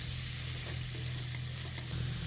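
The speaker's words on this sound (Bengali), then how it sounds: "সয়াবিনটা দিয়ে মশলার সঙ্গে ভালো করে মিশিয়ে নিচ্ছি" Soybean chunks stirred with spices in a kadai over a low-to-medium gas flame for an egg soybean curry, a steady close sizzle with soft scraping of the stirring throughout.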